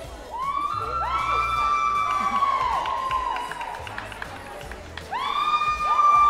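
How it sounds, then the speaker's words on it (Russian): An audience cheers at the AniCon XMAS 2023 award ceremony, with shrill, rising shrieks and whoops repeating over crowd noise. A fresh burst of cheering comes near the end, and little clapping is evident. "Аплодисменты"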